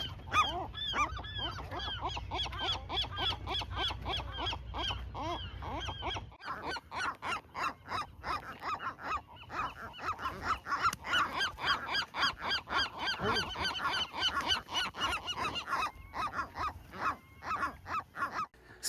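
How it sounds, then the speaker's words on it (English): Western gulls squabble and call in a noisy colony on the Channel Islands. Dense overlapping raucous squawks and honking cries go on continuously, close and loud, with no voices. "Western gulls, to be precise, and most of them were not happy"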